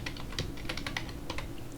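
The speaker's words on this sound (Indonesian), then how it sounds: "Lalu saya tab lagi misalkan di sini saya ketik Saifullah Eskom." Rapid, close clicking of keys on a computer keyboard while typing text into Microsoft Word, a steady patter of keystrokes with no talking.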